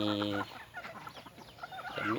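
Wild junglefowl cluck at a rice-field farm on a rainy day. Soft, repeated clucks sit in the middle distance, and someone talks briefly at the start and end.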